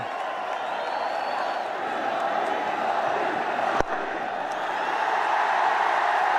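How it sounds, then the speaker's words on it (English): Stadium crowd at an India cricket match roaring after Rohit Sharma hits a six, a steady distant wash of cheering with one sharp crack partway through, under faint commentary. "Big cheer, Yulia."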